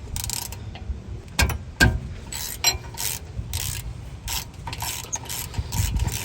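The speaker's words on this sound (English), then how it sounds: "now using 13mm, break open this bolt" Several bursts of quick metallic ratcheting clicks from a 13mm ratchet loosening a front brake bolt on a Mercedes ML63 AMG, close and fairly loud, separated by short pauses, with light clanks of tools in between.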